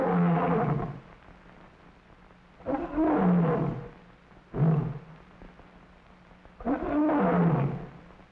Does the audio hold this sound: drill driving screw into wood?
no